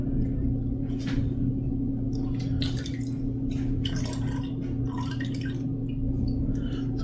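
Water drips and squishes from a wet shaving brush being worked, irregular close splashy drops over a steady low hum, no talk.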